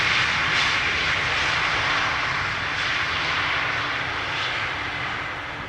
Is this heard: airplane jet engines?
yes